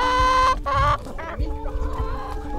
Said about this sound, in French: tous les deux, on a un atelier de poules pondeuses